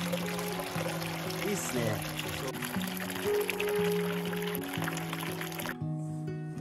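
Hot water runs from a mixing tap into an outdoor goemon-style bathtub in an old Japanese house, a steady pour that stops near the end. A person speaks briefly over the flow, and music also plays.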